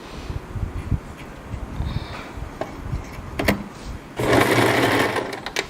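A sewing machine back stitches through a wig, giving short bursts of motor whir and then a louder sustained run near the end, close and distinct.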